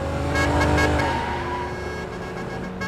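A car used as an emergency ambulance pushes through traffic, its engine roaring up close and revving with a rising tone before settling to a steady drive.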